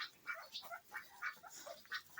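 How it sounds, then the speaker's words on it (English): Homestead ducks quack in a quick, uneven series of short nasal calls, fairly close and fairly quiet, with no voices over them. "And then, of course, here are the ducks"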